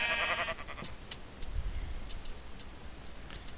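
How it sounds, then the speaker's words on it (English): A pink sheep bleats once, brief and fairly faint, in the Minecraft video game, followed by quiet ambient game sounds and soft ticking with no talk. "Oh, pink sheep, that's rare."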